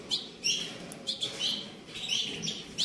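Several caged songbirds chirp in short, bright bursts that come and go with a faint background hum, with no one speaking. Among them are F1 birds, including a large yellow male.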